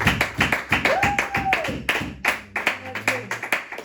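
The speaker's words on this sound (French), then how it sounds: "Acclamons pour le Seigneur Jésus-Christ." A church congregation claps in quick, even rhythm, loud and close, while voices sing or call out over the steady beat.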